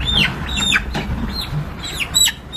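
Several sharp clucks and squawks from 31-day-old colour bird chickens being weighed on a farm come in quick bursts, close and fairly loud, with no talking.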